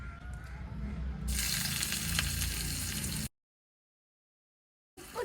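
Onion sizzling loudly in a miniature pan with oil and mustard seeds, a bright frying hiss that swells partway through, then stops abruptly into silence before a brief return.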